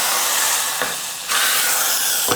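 A hot tempering of mustard seeds, urad dal and curry leaves poured into sambar gives a loud, close, steady sizzle and hiss with brief surges, and no talk.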